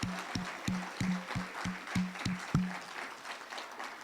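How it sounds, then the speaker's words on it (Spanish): Church congregation applauding during a sermon, a short burst of hand-clapping with regular rhythmic claps over a low background hum, close and moderately loud, fading out after a few seconds. "Ahora sí, un aplauso fuerte al Señor"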